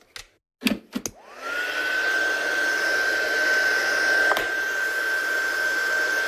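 A hair dryer dries a watercolour and ink painting. A few handling knocks come first, then the motor spins up to a steady, close, loud whirring hiss with a constant whine that runs to the end.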